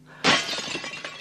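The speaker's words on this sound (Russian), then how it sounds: "глиняный кувшин грохнулся на пол" A clay jug smashes onto a floor in a sudden loud crash, followed by scattering, rattling shards settling over about a second, with no one speaking.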